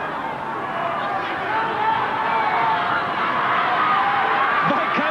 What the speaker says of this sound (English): The big crowd, they're demanding a big effort from both sides.